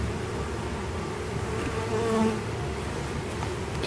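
Honey bees buzz steadily at an open beehive, a dense close drone of many insects holding throughout with a brief louder swell near the middle, no talk.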